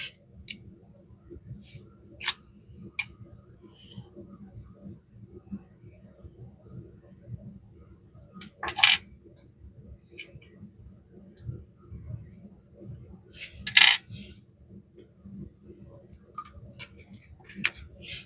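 Phillips head screws are tightened on the thumb piece of a hole-in-the-wall telegraph bug, giving sparse small metallic clicks and ticks over a low steady hum, with a few sharper taps spaced several seconds apart.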